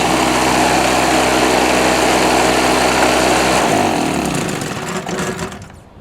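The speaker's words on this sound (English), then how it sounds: "try starting it with the drill and see if it kicks back" A Harbor Freight Storm Cat 2-cycle generator with a slightly loose spark plug runs with a loud, buzzy high-pitched engine drone while being spun by a drill, then winds down and fades near the end.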